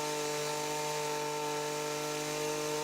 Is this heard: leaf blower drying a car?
yes